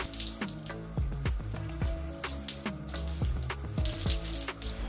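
Water running and splashing steadily over hair as shampoo foam is rinsed down the lengths, a continuous close wash with a tonal musical background underneath and no talking.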